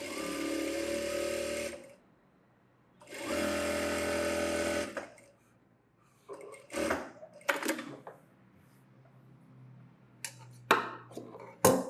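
A sewing machine runs in two long, steady bursts, stitching a folded two-inch belt strip for a saree blouse. Between and after the bursts come short knocks and rustles of handling the cloth.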